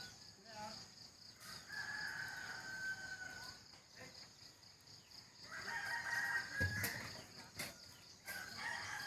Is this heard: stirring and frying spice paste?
no